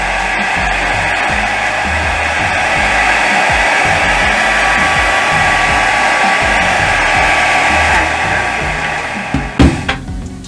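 Loud, steady whoosh of a blow dryer warming an eyelash curler, running continuously up close for several seconds before cutting off with a few clattering knocks at the end.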